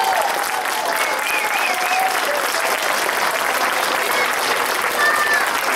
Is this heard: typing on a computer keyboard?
no